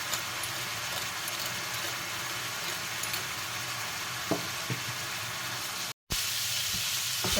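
Chicken empanada filling with pepper sizzles and fries in a pan, a steady close hiss with a few faint stirring taps. The sizzle breaks off briefly and then comes back just as strong.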